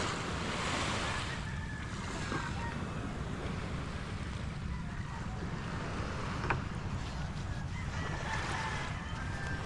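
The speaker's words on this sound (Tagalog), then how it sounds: "Yung bangka ni Kanuto" A wooden outrigger bangka out on the sea, steady surf and waves washing around the hull under heavy wind buffeting the microphone, continuous and fairly loud throughout.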